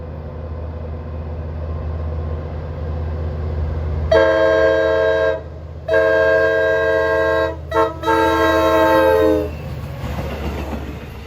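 DE30AC locomotive number 416 blows its wheezy horn in a loud sustained blast, a brief break, a longer second blast and a quick toot, over the steady rumble of the passing train.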